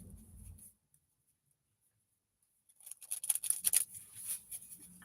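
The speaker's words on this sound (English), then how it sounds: "Gonna start pulling the cards" Tarot cards are handled and shuffled after a short quiet gap, a quick close run of crisp riffling, flicking card sounds that rise and end abruptly, with no one talking.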